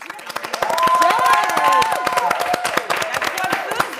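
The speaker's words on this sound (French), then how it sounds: "On peut l'applaudir." A studio audience applauds a guest at the close of a French talk show episode, a dense wash of clapping with cheers and whoops rising over it, steady for about four seconds.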